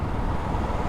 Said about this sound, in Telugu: ఇప్పుడు మోస్ట్లీ ఇంజిన్ సౌండే వస్తుంది